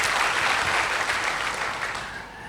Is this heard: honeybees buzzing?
no